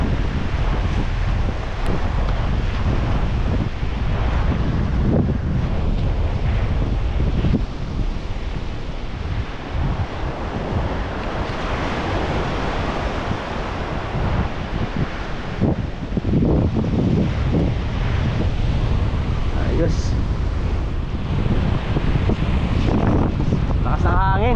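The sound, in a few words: strong wind and waves at the shore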